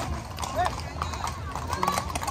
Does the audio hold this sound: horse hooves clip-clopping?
yes